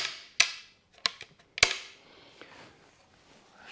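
A gun is dry-fired on snap caps to release spring pressure before a roost shoot: three or four sharp, close mechanical snaps with brief clicks between them, then faint handling noise.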